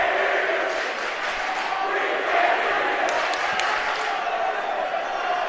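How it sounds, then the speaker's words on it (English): Rival student sections roar and chant throughout a high school boys basketball game against Hillsborough, a dense, sustained crowd noise with a few sharp peaks, and an announcer talking over it. "So battle between these student sections, George"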